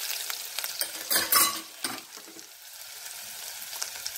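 A coarse green chili and ginger paste fries with cumin in a pan over a low flame, a close, crackling sizzle broken by spoon stirs and scrapes, swelling briefly in the middle before settling to a steady hiss.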